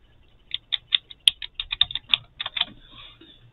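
A password being typed on a computer keyboard: about fifteen crisp, close key clicks in an uneven quick run, with a couple of louder strikes, and no voices.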